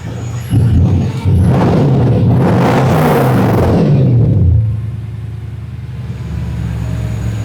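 A Mercedes V8 fitted in a Ford Capri idles loudly and close with an uneven, lumpy rumble from a misfire on one bank, rising briefly in a rev before settling back to a steady idle.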